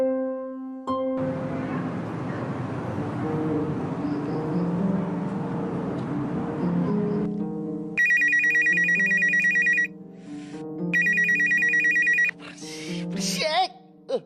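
A telephone ringtone plays loudly in repeated electronic bursts, with a steady ringing melody and then two sharp, bright bursts of ringing separated by short gaps, with no talk.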